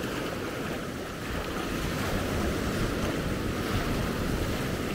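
Steady roar of ocean surf breaking on the beach at Maspalomas, Gran Canaria, loud and continuous with wind rushing across the microphone, no voices.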